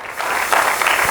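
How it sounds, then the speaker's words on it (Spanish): A church congregation applauds during a Spanish-language sermon, a steady broadband wash of clapping that swells slightly midway and holds at moderate loudness through the short burst. "Démosle un aplauso al nombre del Señor Jesucristo."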